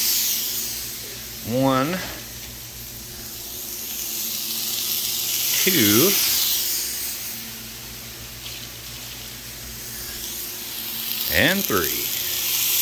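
NY strip steaks searing on a Blackstone griddle give a steady bright sizzle throughout, while a person talks intermittently over the frying.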